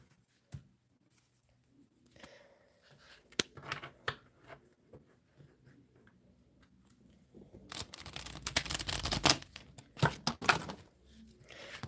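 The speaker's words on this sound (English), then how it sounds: "Let's have a few shuffles." Tarot cards are handled and shuffled up close: scattered soft taps and slides, then a louder, dense burst of papery riffling before it quiets.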